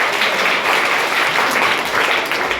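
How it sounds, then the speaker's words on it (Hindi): Schoolchildren in a village school classroom clapping together, a brief burst of dense, loud, close applause lasting a couple of seconds. "ताली बजाओ जी"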